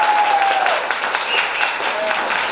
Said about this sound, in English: a big round of applause and a big hand for the Ojai Arts Center